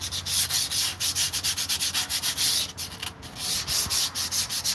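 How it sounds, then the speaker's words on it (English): Hand sanding scrubs a surface during wheel bearing work, quick rhythmic back-and-forth strokes, close and steady with brief pauses and no talk. "Just lightly sanding this down to get a fresh, clean surface."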